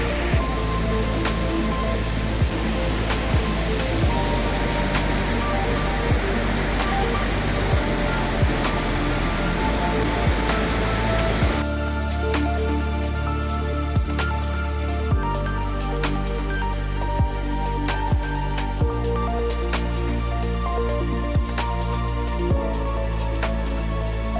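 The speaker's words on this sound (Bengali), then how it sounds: "এটা ঝাড়খণ্ডের সব থেকে বড় ফলস" Large waterfall at Netarhat, Jharkhand, its water tinted by the red soil, gives a steady, loud broadband roar that continues unbroken throughout, with a sudden shift in tone partway through and no voices.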